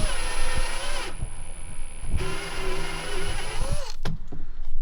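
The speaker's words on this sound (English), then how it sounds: "we're going to use our step bit here, and we're now going to oversize that hole that we drilled." A step bit oversizes a previously drilled hole in a motorcycle plate while installing a turn signal kit on a Harley HD11, giving a steady high-pitched whine that runs near and loud through most of the clip before cutting off.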